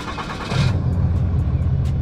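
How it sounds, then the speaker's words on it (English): A 2021 RAM 2500 Big Horn's 6.7-liter Cummins turbo diesel is remote-started: a brief loud cranking burst gives way to a steady, deep, close diesel idle rumble with no talking. "the Cummins engine comes to life"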